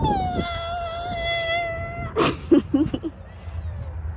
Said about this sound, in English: I've never heard a cat talk as much as he does. He'll get like really loud sometimes.